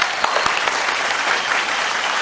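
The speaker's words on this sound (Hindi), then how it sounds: "मैं चाहूंगा कि इन सब लेजेंड्स के लिए एक बार जोरदार तालियां।" Loud, dense audience applause at an award show, steady clapping from a large crowd close by with no talk.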